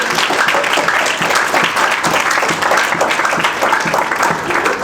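Applause from a church congregation during a sermon, dense steady clapping filling the room at close range for the whole stretch.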